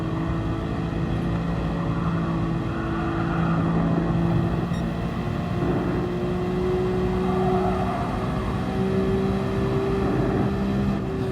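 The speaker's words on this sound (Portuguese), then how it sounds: "descida de mudanças e novamente o subir das rotações na saída da curva" A Nissan GT-R R34 in Gran Turismo Sport drops through gears and then revs back up out of a corner, its engine note droning steadily and rising and falling in pitch throughout.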